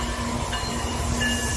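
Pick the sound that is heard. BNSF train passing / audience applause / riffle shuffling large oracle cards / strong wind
BNSF train passing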